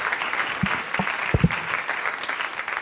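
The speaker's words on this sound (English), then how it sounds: "If you'd give them a round of applause." An audience at a panel forum claps in a steady wash of applause, dense and continuous, with a few sharper claps standing out nearby.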